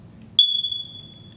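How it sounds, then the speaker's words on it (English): A smoke alarm gives a single sharp, high-pitched low-battery chirp that sustains briefly and fades, ringing out over a quiet room with a low background hum. "my fire alarm thing, you're gonna hear that throughout the video."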